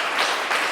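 A church congregation at a Sunday worship service breaks into a short burst of dense, steady applause, many hands clapping together close by.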